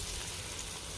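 Garlic sizzles and crackles steadily in a hot pan while being stirred for a hot pepper sauce. The frying hiss is close and continuous, with no voices.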